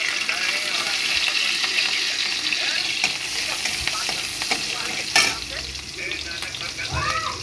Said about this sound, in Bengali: আগে এখানে পেঁয়াজ লঙ্কাগুলো দিয়ে দিব।